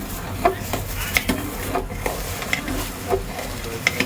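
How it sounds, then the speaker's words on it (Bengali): A spoon stirs sugar into a pot of firni, the sweet rice pudding, producing soft repeated scraping and light clinks against the pan over a low simmering background, with no talking. "আমরা এখন দিয়ে দিচ্ছি চিনি।"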